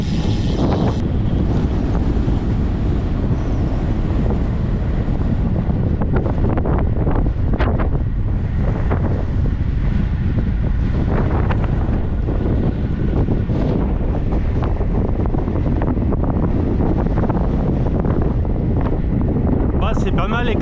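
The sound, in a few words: strong wind on an exposed mountain road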